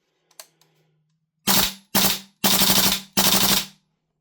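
A WellPro AK12 gas blowback airsoft rifle with a 130% recoil spring fires four loud, close bursts of rapid shots, each sharp and clattering, separated by brief gaps after faint handling clicks.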